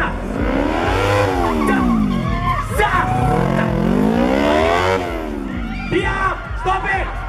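Motorcycle engine revving up and down in sweeping waves as a Yamaha sport bike slides and corners during a freestyle stunt show in Yogyakarta, with tire screech and crowd noise underneath and an announcer talking over it.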